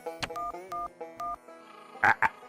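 A cartoon telephone number is dialed as a few steady electronic keypad tones beep in a row, each short and evenly spaced, followed by two brief louder bursts of sound.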